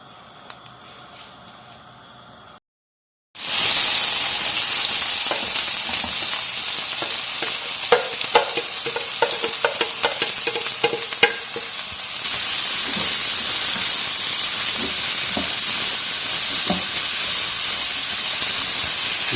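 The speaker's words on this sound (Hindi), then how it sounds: "इसके अंदर अब हम तमाम सब्जियां डाल के उनको सौते करेंगे।" After a quiet moment, loud, steady hissing and sizzling begins as vegetables such as carrot and capsicum are sautéed in hot oil in a pan, with occasional stirring clicks and scrapes close up.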